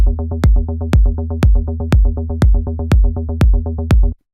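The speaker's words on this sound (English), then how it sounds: "Let's add a sidechain and listen to how this sounds like with a kick." Melodic techno synth bass pumping under a sidechained kick drum, nine evenly spaced thumping kicks each ducking the sustained bass tone, loud and rhythmic, with no voices.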